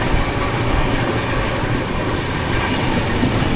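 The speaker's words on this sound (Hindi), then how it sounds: "सोननगर जंक्शन, क्या ट्रैक साउंड आ रहा है" Train wheels clatter loudly and steadily over the rails while passing through Sonnagar Junction, a dense continuous rumble with rhythmic clickety-clack heard from on board.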